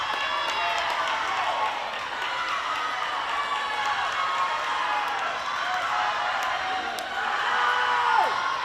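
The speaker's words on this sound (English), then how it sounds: "You can hear the fans cheering." A large crowd of fans cheers and shouts continuously at a girls' high school swim meet in a big echoing pool hall, a steady roar of voices with scattered whoops and some clapping.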